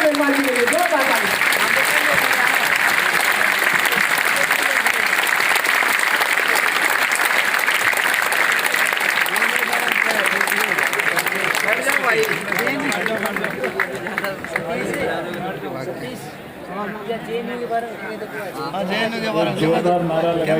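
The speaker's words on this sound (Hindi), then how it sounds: "माननीय मेघवाल जी के लिए जोरदार ताली।" An audience at a Constitution Day celebration in Delhi claps loudly and steadily, a dense wall of applause that thins toward the end as crowd voices rise beneath it and the clapping briefly dips before swelling again.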